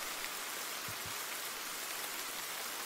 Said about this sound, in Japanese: 雨はそれほど強くなかったけれど